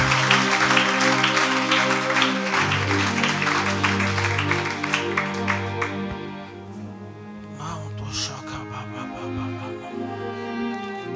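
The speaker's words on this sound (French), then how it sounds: "Acclame bien Jésus." A crowd applauds and cheers for Jesus, with dense clapping over sustained music that thins out after the first several seconds.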